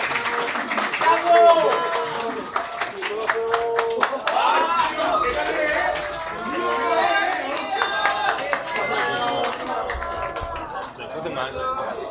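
Football fans at an FC Anyang event clap for the players and coaching staff, steady crowded applause that continues throughout, mixed with cheering and voices talking nearby.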